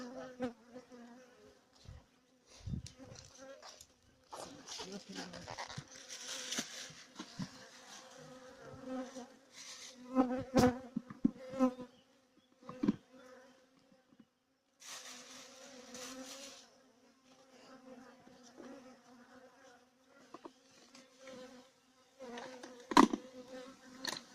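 Honey bees buzz around hives at an apiary on a cool, dull day, with intermittent droning passes of individual bees, some flying close and loud, others faint, over quiet gaps and occasional knocks.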